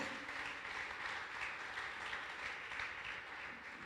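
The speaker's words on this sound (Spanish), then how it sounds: "Puedes darle un aplauso al Señor." Soft, steady applause from a church congregation, heard at a distance and fairly faint, continuing evenly throughout.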